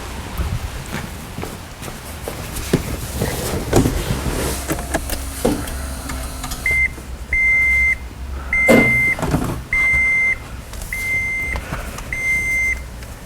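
A 2010 Toyota Prius Gen3 hybrid, fitted with an upgraded lithium battery, is switched on in a garage: a few clicks and clunks, then a series of regular electronic chimes repeating at steady intervals, close and clear.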